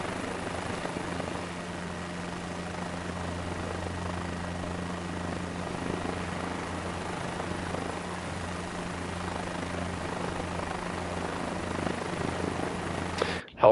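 A helicopter engine in Microsoft Flight Simulator 2024 drones steadily with a low, constant hum and a rotor rumble. It holds an even level for about thirteen seconds and ends in a sharp click.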